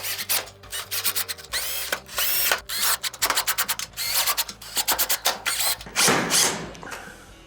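A hand tool ratchets screws into a Whirlpool stove panel during an oven repair, with quick clicking strokes in repeated bursts, close and loud, and short pauses between screws.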